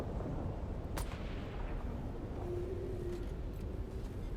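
Gunfire in the Dune survival game cracks out a few times at a distance, sharp isolated reports over a dense rumbling ambient background.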